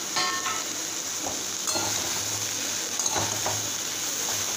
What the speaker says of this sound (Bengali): এবার আলু বেগুন পটল বেশ খানিকক্ষণ ভালো করে ভেজে নিতে হবে।